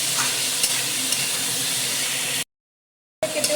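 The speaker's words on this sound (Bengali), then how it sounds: "আমি আলু পেঁয়াজগুলো একসাথেই ভেজে নেব আলু পেঁয়াজটা গরম মশলাটাকে ফোড়নে দিয়ে নিয়ে কালারটা এসে নেবে" Potatoes and onions frying together with garam masala in a pan for chicken curry: a loud, dense hiss of sizzling that cuts out into a brief silence before resuming.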